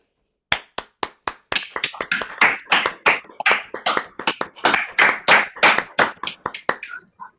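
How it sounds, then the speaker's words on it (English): A small audience at a science café talk claps for the speaker, the sparse individual claps quickly building into a dense, close round of applause before thinning out. "a round of applause for our speaker from everybody"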